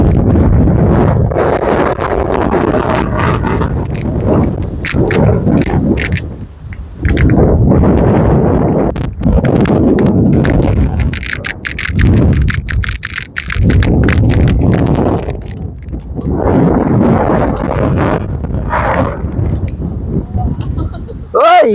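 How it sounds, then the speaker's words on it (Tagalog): Strong gusts buffet the microphone on a windy lakeshore near moored yachts, coming in loud, uneven surges with short lulls, while people talk now and then over the roar. "Mahangin lang."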